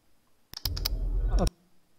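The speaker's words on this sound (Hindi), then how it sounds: "ये मैंने माउस क्लिक अपने ऑडियो पैक से निकाला उसको यहाँ डाला" A few sharp clicks in quick succession, then a brief rustling burst, isolated against near silence.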